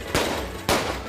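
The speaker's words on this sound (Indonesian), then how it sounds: "Kenapa zaman sekarang masih pakai petasan?" Two sharp, loud firecracker blasts about half a second apart, each with a crackling tail, set off during a traditional Betawi wedding procession (buka palang pintu) before the marriage vows in Rawa Belong.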